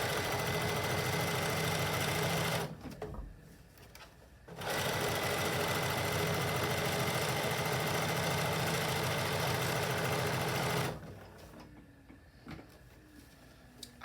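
A sewing machine stitches fabric with elastic in a home studio, a fast steady mechanical whirring in two long bursts separated by short pauses of quiet handling and soft rustling, close up and with no talking.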